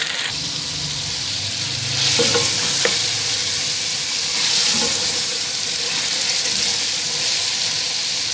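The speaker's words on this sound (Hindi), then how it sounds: "लहसुन अदरक ऐड करके इसे भूनेंगे" Chicken frying with garlic and ginger in a pan for chicken pulao, giving a steady close sizzle with stirring scrapes and brief bursts of louder hissing, and no talking.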